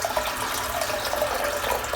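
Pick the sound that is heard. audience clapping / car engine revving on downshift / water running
water running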